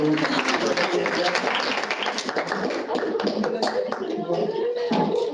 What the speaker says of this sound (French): Je pense que c'est eux qui méritent l'applaudissement.